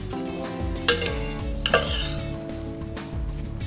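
An omelette mixture of eggs and whipped cream is stirred quickly over carrots in a pan. It gives a close sizzle with a few spoon scrapes and clinks against the pan, and no one talks.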